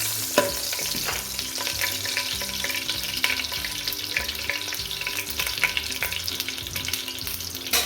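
Whole spices (cloves, cinnamon and black cardamom) fry in hot oil in a kadhai for Lahori chana, giving a close, steady crackling sizzle with frequent scraping stir strokes and small pops throughout.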